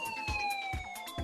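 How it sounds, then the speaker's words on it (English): A siren sound effect wails with a steady, slightly falling tone, played fairly quietly under rhythmic thumping beats. "So we are going to sound the siren."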